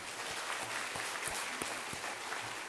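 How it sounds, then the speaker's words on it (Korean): A church congregation claps for the choir after its performance, dense, even applause filling the room from start to finish with no voices on top. "박수 한번 다시 합시다."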